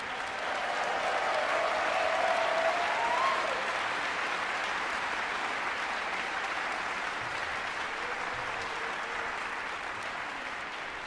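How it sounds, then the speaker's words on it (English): Audience applause at a memorial celebration of a person, dense continuous clapping from a sizable crowd lasting about eleven seconds, slowly easing off toward the end. "Can we give Michael Morgan an applause?"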